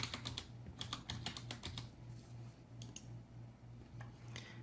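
Quick, light keystrokes on a computer keyboard, typed in short bursts with brief pauses between them, close and fairly quiet with no talking.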